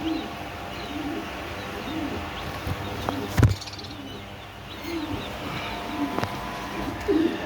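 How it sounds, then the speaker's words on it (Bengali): Fancy pigeons, including rare Danish breeds, coo softly at a seller's loft, low murmuring calls recurring over a steady background hum with an occasional louder bump. "কবুতরগুলো"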